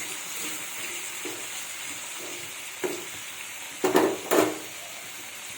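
Rice being fried with potatoes in a pan over a low flame: a steady sizzle runs throughout, broken by a few close, sharp scraping clatters of stirring near the end.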